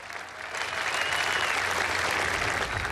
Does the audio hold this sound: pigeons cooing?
no